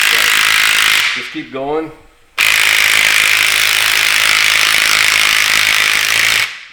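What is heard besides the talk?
socket tool tightening a Ford Raptor shock's top lock nut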